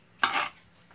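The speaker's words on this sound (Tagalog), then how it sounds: "Halo-haluin na mabuti para" A single short burst of a utensil scraping and clinking in a bowl while stirring an egg and carrot mixture for tortang alamang, close and brief, with quiet afterward.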